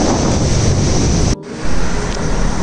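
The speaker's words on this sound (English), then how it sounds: "It's a river flow." River water rushes in a loud, steady broadband roar with wind buffeting the microphone, briefly dipping for a moment before the flow noise returns, in green hilly Kerala country near Thekkady.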